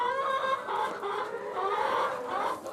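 A flock of about 100 farm hens clucks steadily on a farmyard in Bottmingen, a continuous, fairly close chorus of overlapping calls with no speech.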